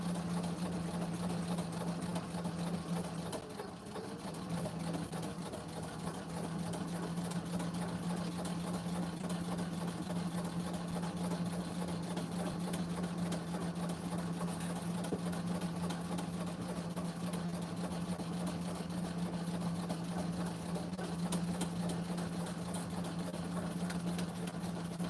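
A sewing machine hums steadily while stitching binding on a quilt, a continuous motor drone running nearly unbroken throughout, close and moderately loud, with a brief dip near the start.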